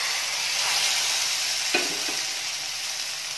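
Masala-coated pearl spot fish (karimeen) is added to hot coconut oil in a pan and fries with a steady, loud sizzle. A brief clatter marks it going in, and no one talks.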